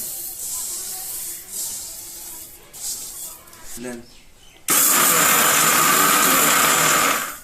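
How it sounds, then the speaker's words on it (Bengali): A kitchen mixer grinder grinds soaked rice for winter puli pitha, starting abruptly partway through with a loud, steady whirring roar after a stretch of quiet talking and handling sounds. "এখন তো আধুনিক যুগ, মিক্সচার আছে, মিক্সচারেই পিসা হয়ে যাবে।"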